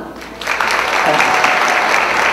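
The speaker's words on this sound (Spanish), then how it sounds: "quiero que recibamos con un fuerte aplauso y muy cariñoso a Jordi Rosado" A crowd bursts into warm, sustained applause at a book presentation as a guest is welcomed, a dense, loud wash of clapping that swells in and holds, with voices mixed in.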